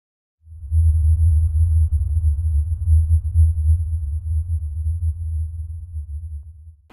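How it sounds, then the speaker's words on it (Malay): A deep, steady low-frequency drone, the Taos hum, rumbles continuously with a slight throbbing pulse, a faint high whine sitting above it. "Suara berdengung di Taos."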